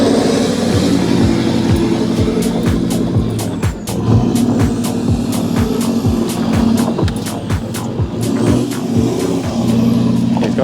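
A Toyota Land Cruiser engine runs loud and close, steady with revving swells and a repeating clatter of rhythmic knocks throughout.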